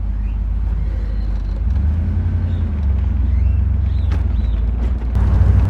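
A 1968 Chevrolet Camaro SS 396 convertible with four-speed manual gearbox cruising top-down on a sunny day, its engine a steady, loud low rumble that swells as it pulls, with road and wind noise and no talk.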